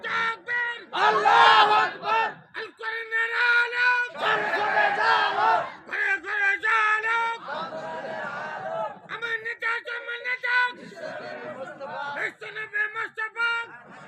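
A crowd at an Islamic gathering shouts Allahu Akbar in loud, repeated bursts in response to a takbir call, with rhythmic group chanting swelling and fading several times.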